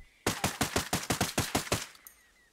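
A rifle fires in the video game Ghost Recon Breakpoint, set to single fire: a rapid run of about ten sharp, loud shots in quick succession, then a brief ringing tail, with no voices.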